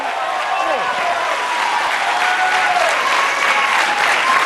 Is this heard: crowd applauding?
yes